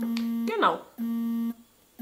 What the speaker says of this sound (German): das war nur mein Wecker, wenn ihr was gehört habt